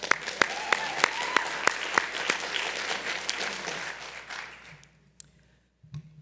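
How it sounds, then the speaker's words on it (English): An audience at a live evening stage show gives a round of steady, dense clapping that carries on for several seconds, then fades away to near silence with a few last scattered claps. "Give a round of applause for everyone else who came up here tonight."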